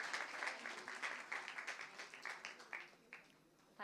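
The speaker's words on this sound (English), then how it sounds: "So can we have a round of applause?" A brief round of light applause from a small group at a panel event, the claps thinning out toward the end.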